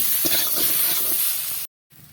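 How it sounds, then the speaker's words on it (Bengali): Fish-roe curry with dry chili powder sautés in a pan with a loud, bright hiss and sizzle that cuts out abruptly, then resumes faintly. "দিয়ে দেবো শুকনো লঙ্কার গুঁড়ো ভালো করে এটাকে কষিয়ে নিতে হবে"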